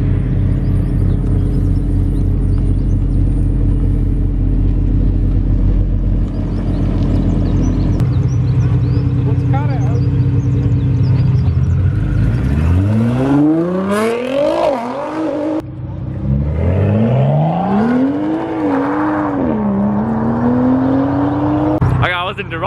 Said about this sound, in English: Interrupted by beautiful sounds of beautiful cars.